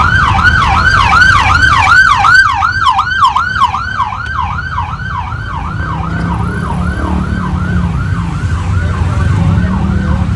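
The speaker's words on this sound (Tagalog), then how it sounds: "Nakaw, yung ambulance." An ambulance siren wails loudly in rapid, repeating up-and-down sweeps through street traffic during the Traslacion feast of the Nazareno, then fades and thins after several seconds as engine rumble takes over.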